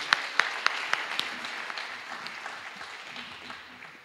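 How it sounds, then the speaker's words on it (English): Graduation ceremony applause for a speaker: a few sharp, distinct claps open the round, then the crowd's clapping thins into a softer, steady patter that gradually fades away. "Let's give him a round of applause."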